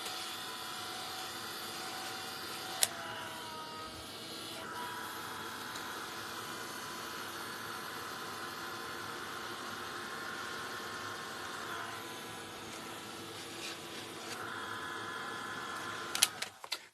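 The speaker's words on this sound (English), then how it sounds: "I'm going to give this a wash with a heat tool" A heat tool blows steadily to dry a wash on an MDF art journal page. Its constant whooshing drone runs for the whole stretch, close and even, broken only by a few brief clicks and small shifts in pitch.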